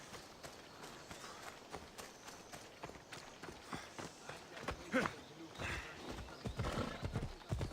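Horse hooves clop steadily at a quick gait in the video game Assassin's Creed, with rapid rhythmic thuds over a busy background that grows louder toward the end, plus occasional neighing.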